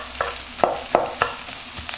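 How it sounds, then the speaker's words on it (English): Sliced onion cooks in butter with garlic, a continuous close sizzle marked by rhythmic spatula strikes and scrapes roughly every third of a second, with nobody speaking. "Cook the onion in that butter and the garlic about 2 minutes until it is translucent."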